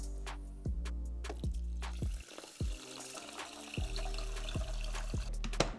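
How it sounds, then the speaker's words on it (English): Water pours into a rice cooker pot from a tap, a splashing, trickling fill heard close up in a kitchen, with a few sharp knocks and clatters mixed in and no talking. "And then we're gonna add 3 cups of water."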